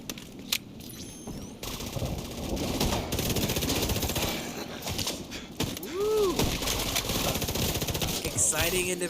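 Shotgun fire in the video game The Division 2 as enemies rush in: loud, repeated gunshot blasts in quick bursts, with a voice talking over the combat.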